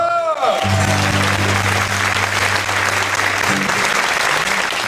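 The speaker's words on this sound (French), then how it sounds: "vous pouvez d'ores et déjà vous applaudir bien fort." An audience at a French comedy show applauds, a dense, steady wash of many hands clapping close and loud from start to finish, with a brief voice and a sustained tone at the very beginning.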